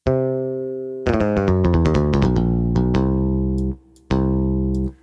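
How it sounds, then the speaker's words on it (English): A sampled hard-picked bass guitar with a sharp attack plays a quick run of low notes, each with a clicky bite, then pauses briefly before another sustained note. "a hard pick bass just sounds like this."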